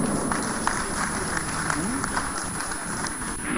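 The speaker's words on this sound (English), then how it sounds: "Please a round of applause for him." A seated audience applauds a speaker at a formal event, with steady, continuous clapping from many hands throughout, over a constant background hum and a brief murmur of voices.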